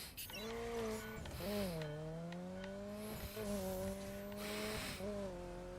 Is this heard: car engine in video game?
yes